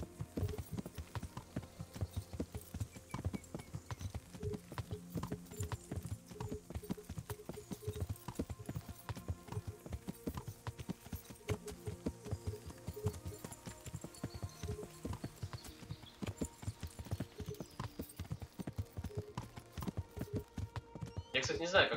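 Horse hooves gallop in a steady, continuous clip-clop rhythm while riding through the medieval world of Kingdom Come: Deliverance, with someone talking over it throughout.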